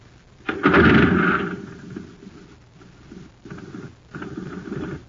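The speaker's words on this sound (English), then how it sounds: "talk about a putt-putt. Just listen to this jet cycle." A jet cycle's small engine running on ordinary fuel sputters loudly to life, then settles into an uneven putt-putting rumble that surges and fades in bursts.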